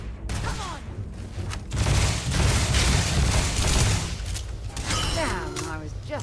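Gunfire in the Starfield video game, dense bursts of booming shots and volleys rolling on and off, loud and close, with a voice speaking between them.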